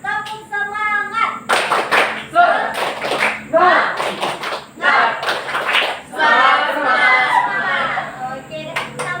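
A class of children claps through the 'tepuk semangat' routine in quick rhythmic bursts, their lively chanting and chatter mixing closely with the claps.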